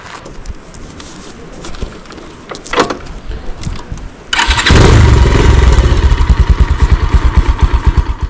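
A motorbike ridden to Seti Bagar starts up with a clatter, then its engine runs loud and close with a steady throbbing pulse, after some shuffling and handling noises.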